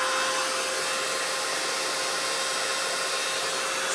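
Hair dryer blowing on crocheted flowers, a loud, steady airy whoosh with a constant motor hum, continuous and close with no talking.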